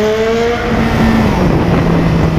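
A Suzuki Hayabusa motorcycle accelerates hard, its engine note rising loud and close through a gear change and climbing again in a continuous high-revving roar.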